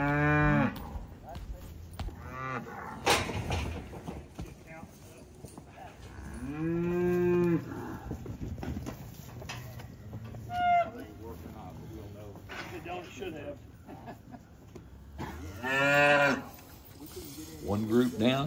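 Cattle at a working pen, cows and late-born calves, moo repeatedly in long drawn-out calls, some near and loud, others farther off, scattered through the scene with someone speaking at times between them.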